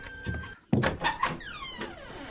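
A door in the Candles video game opens with a solid thunk, followed by a creaking, sliding swing that fades over a second or two, heard alone at moderate volume.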